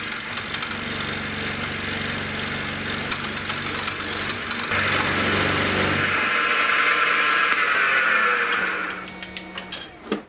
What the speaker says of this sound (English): the face mill is loaded up with brand new sharp inserts and it just tears through the acrylic